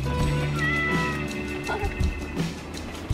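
A cat meows and caterwauls in drawn-out, wavering cries, fairly close, over a muffled background.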